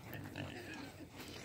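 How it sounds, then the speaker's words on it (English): Small pigs grunt and oink in a low, muffled, continuous jumble close by, a steady murmur of snorts lasting under two seconds with no clear single calls standing out. "So yeah, we got pigs. Got little piggies."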